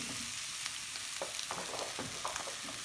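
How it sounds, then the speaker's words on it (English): Garlic, butternut and carrot frying in a pan give a steady, close sizzle with small crackles and pops throughout and no talking. "Need to get a little bit of a fry on the garlic without it burning."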